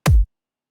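A single punchy kick drum hit, a deep low thump with a sharp attack that stops abruptly, heard alone.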